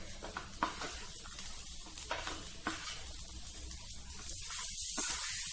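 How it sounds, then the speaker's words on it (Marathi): Lemon pickle sautés in a pan, making a quiet, continuous sizzle with a few soft stirring scrapes in the first seconds. A hissier frying sound builds toward the end. "चांगलं व्यवस्थित परतून घ्यायचंय 2 ते 3 मिनिटं"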